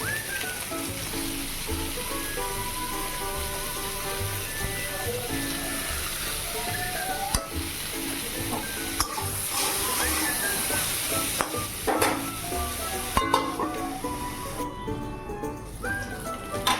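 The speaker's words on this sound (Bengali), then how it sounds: "লবণ হলুদ লঙ্কা দিয়ে ভালো করে কষিয়ে নেব পটলটা" Pointed gourd stir-fried in a wok with salt, turmeric and chili, giving a steady close sizzle with scraping stirs and occasional utensil clacks throughout.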